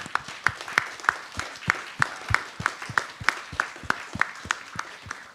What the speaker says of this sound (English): let's give a round of applause for Zia.